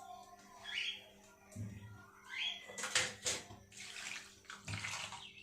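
Potatoes washed in a bowl of water in a small home kitchen, with splashing and sloshing bursts that come and go, close and moderately loud, alone without talk.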